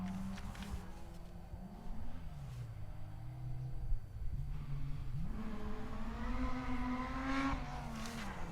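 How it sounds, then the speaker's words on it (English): BMW 325i rally car on a gravel stage, engine note rising and falling as it accelerates and shifts through gears, steady and fairly close, with no talk over it. "Listen to that. BMW 325i."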